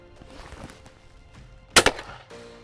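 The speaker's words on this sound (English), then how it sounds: "I'm now going to run through the menu and shoot each target as a single." A shotgun fires a single loud report at a clay target on a FITASC sporting layout, a sharp blast followed closely by a second echoing crack, standing out against quiet outdoor background.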